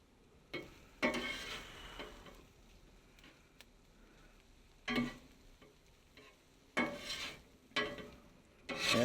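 Metal spatula scraping and stirring a breakfast scramble with melted cheese on a Weber griddle, a quiet sizzle broken by several short bursts of scraping.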